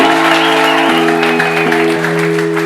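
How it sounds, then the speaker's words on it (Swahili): A church congregation claps and ululates in celebration. A dense wash of clapping runs over sustained high, wavering tones that hold steady throughout. "Tutashangilia kwa makofi na vigelegele kwa ajili ya utukufu wake"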